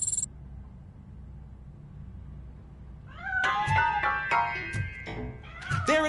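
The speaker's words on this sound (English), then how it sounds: "I think it's coming from the piano. That cat must be hiding inside." A cat hidden inside a piano meows several times in a row, sharp and fairly close after a quiet stretch, with faint movement noise between the calls.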